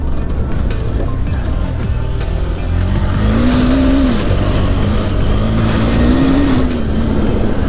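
A KTM 390 Adventure pulls hard off road with loud, constant engine roar. Two rising tones mark the revs climbing through the gears, heard up close with heavy wind buffeting.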